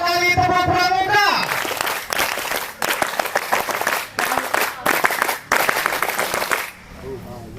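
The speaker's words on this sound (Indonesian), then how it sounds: "Dua kali tepuk pramuka." An audience in a scout gathering at a talk show performs the rhythmic Pramuka scout clap twice, loud and close, with clustered bursts of hand claps in a patterned beat after a brief stretch of voices.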